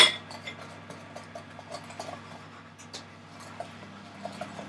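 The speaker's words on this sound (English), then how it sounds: "I'm just going to start cutting the chocolate because it needs to be in small chunks" A knife chops chocolate into small chunks on a board, giving light, irregular taps and clicks with the occasional clink of utensils. The sounds are close, fairly quiet and unevenly spaced, with no talking.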